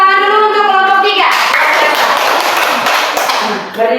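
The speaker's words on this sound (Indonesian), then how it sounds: "Mari tepuk tangan dulu untuk kelompok 3." Classroom applause for a student group, a dense wash of clapping hands filling the room at close range after a brief tonal start, steady throughout with children's voices mixed in.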